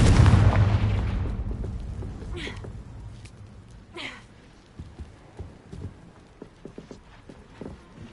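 A Confringo spell blast in a video game, a loud booming explosion at the start that rumbles and fades, followed by scattered smaller cracks and thumps.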